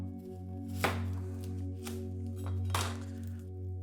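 A knife chops an onion on a cutting board, a few sharp separate strikes at an uneven pace over a steady low kitchen hum, close and moderately loud.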